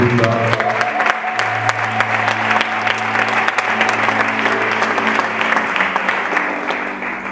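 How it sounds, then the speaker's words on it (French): A church congregation applauding loudly and steadily, dense clapping from a large crowd filling the hall, with scattered cheers and voices mixed in, going on without a break until it eases slightly at the end. "aidez-moi à acclamer le Seigneur pour l'arrivée de l'apôtre Jephté"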